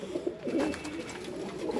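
Breeder pigeons coo softly and continuously at a moderate distance, their low murmuring calls overlapping with no voices present.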